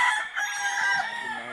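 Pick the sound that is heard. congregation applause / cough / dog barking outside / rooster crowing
rooster crowing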